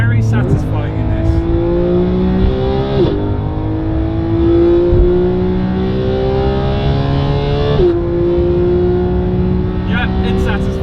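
A 2017 Porsche 991.2 GT3 engine accelerating hard up through the gears, a loud rising howl that climbs, drops briefly at each shift and climbs again, with a voice talking over it.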